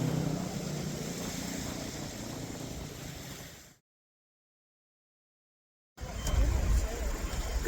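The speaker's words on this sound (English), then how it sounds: "Unfortunately, you can hear the cars from the busy street" Cars on a busy street below a hotel produce a steady, low wash of traffic noise that cuts out completely for a couple of seconds midway, then returns.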